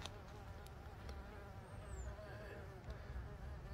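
Mason bees buzz faintly in the open air, a soft continuous insect drone with a brief passing whine, over low outdoor background noise.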